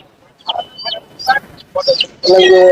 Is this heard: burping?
no